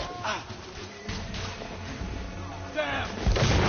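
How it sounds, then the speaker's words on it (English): Grenade exploding in a PS4 video game, with several dull booms and thuds under gunfire-like bursts in a short, busy battle scene, as voices speak. "Bloody grenade!"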